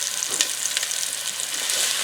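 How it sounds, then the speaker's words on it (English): Southern cabbage with smoked turkey and other vegetables gets stirred in a pot, a soft steady sizzle with faint scraping, alone and fairly quiet. "And we're going to go ahead and stir it."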